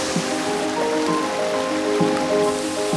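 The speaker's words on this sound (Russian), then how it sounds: "Это самый большой водопад в Хорватии." Veliki Slap, Croatia's largest waterfall at Plitvice Lakes, about 78 metres high and running low in a dry spell, gives a steady, even rush of falling water heard alone, with faint tonal hum underneath.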